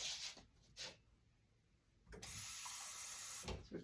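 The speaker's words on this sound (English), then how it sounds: "So we're pouring some water" Water is poured into a newly installed sink drain to test it for leaks. A few short splashes come first, then a steady, close pour of running water for over a second, ending in a final splash.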